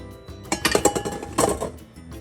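Cocoa mixture is transferred into a different bowl, with a few clinks and knocks of bowl and utensil coming in short clustered bursts. The sounds are moderately close and stand alone without talk.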